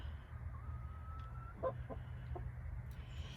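Young chickens cluck softly at bedtime as they go into the coop for the night, giving a few brief calls over a low steady background hum.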